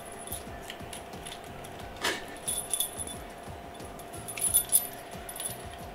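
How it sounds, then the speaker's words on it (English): A bunch of keys jangles while someone tries to unlock a padlock, with a few short metallic rattling bursts, one near the start and a cluster toward the end, over a low steady background hum. "how am I supposed to use these keys to unlock this padlock?"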